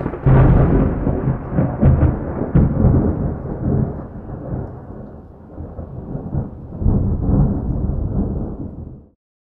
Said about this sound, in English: provided a spectacular view over the ocean with a thunder and lightning storm